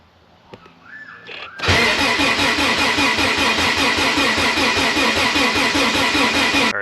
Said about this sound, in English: While I was cranking the engine, hoping to see oil pressure on this gauge